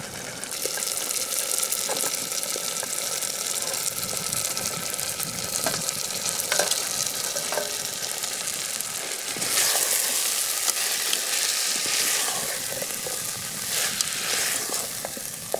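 Chicken fries in oil with spices in a pan over a campfire at a rainy wild lake, with a steady, close sizzle and occasional scrapes and stirring knocks throughout and no talking.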